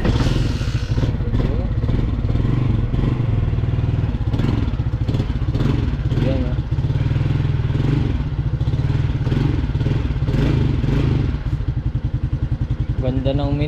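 A motorcycle engine is started and left running, a steady loud rumble with some clattering and revving throughout, close by. Speech-like noise sits over it.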